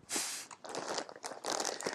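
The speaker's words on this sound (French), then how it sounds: "désolée pour le bruit si vous entendez le papier" Paper crinkles and rustles up close in short bursts, crisp crackling handling noise with brief pauses.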